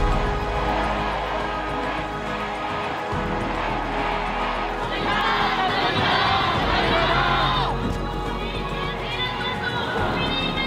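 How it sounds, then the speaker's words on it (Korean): A large protest crowd in Yeouido, Seoul shouts and cheers continuously, swelling into louder massed chanting partway through before settling back. The crowd sounds at a moderate distance, with a narrator's voice over it. "지난 한 주 여의도가 함성과 불빛으로 메워졌습니다."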